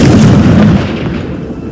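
A Confringo fire spell in Hogwarts Legacy bursts with a loud, booming blast that fades over about a second, close and alone.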